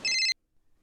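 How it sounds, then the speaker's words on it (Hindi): A telephone rings with one short, bright electronic trill that cuts off abruptly, leaving near silence. "आपका फोन है।"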